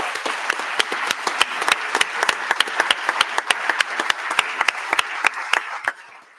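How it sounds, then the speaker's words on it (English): Applause from a crowd at a Libertarian political campaign launch for lower house candidates, brisk sharp claps ringing out rapidly and fairly loud, thinning out and stopping near the end. "Can I get a round of applause for our lower house candidates?"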